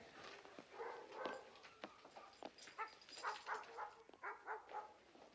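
A white poodle whimpers and gives a few short yips and barks, faint and fairly close, in a string of small bursts with no talking.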